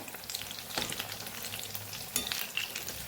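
Steady sizzle of bread snacks frying in hot oil until crisp, with a couple of brief scraping stirs cutting through the crackle.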